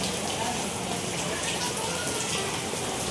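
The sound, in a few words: heavy rain falling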